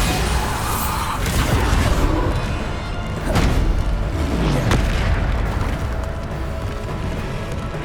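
A Bombarda spell goes off in Hogwarts Legacy with loud booming blasts, several heavy impacts with crackling debris in a dense, continuous barrage.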